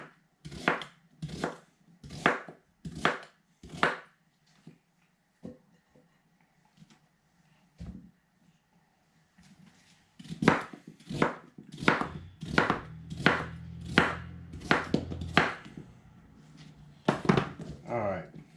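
A pumpkin cut up with a knife, a series of crisp chopping thunks against a board in bursts, close and fairly loud, with quiet stretches and some handling noise between cuts.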